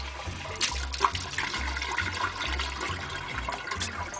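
Tap water running into canned black beans to rinse off the liquid, a continuous splashing and trickling stream with a faint low hum beneath it and no talk.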